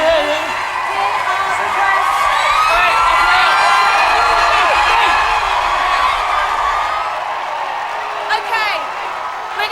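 A loud crowd cheering at a Big Brother UK 2001 eviction, with whoops, shouts and scattered clapping blending into a sustained roar, with voices heard among the noise.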